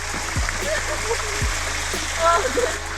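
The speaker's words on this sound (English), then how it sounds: "That's a small trickle right there." A small waterfall trickle on Maderas volcano, a steady splashing water sound close by, with low thumps and faint background noise.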